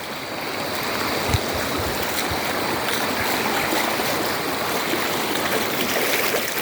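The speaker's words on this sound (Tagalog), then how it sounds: "Ito yung Daong River." The Daong River in Tanay, Rizal, rushing steadily as a broad, even wash of flowing water, close and loud with no pauses and no voices.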